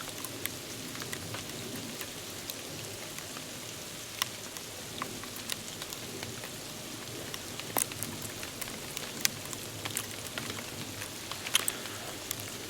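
Hail mixed with snow falls steadily outdoors, producing a continuous dense patter with scattered sharper ticks of pellets striking surfaces and skin nearby, with no voices.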